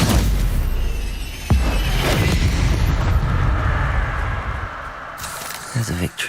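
A Confringo fire spell explodes in Hogwarts Legacy with a sharp blast, followed by rumbling bursts over continuous battle noise, with a few thuds near the end.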